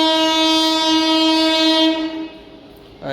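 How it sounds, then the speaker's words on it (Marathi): A train at a station sounds a loud, sustained horn for about two seconds, then cuts off, with a brief rumble returning at the end. "पण या ठिकाणी सध्या मालवाहतूक येते."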